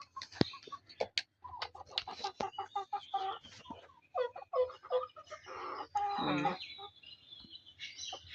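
Desi chickens cluck and chatter close by in a farm coop, with short irregular bursts from several birds, quick clicks and one longer squawk, with no talk.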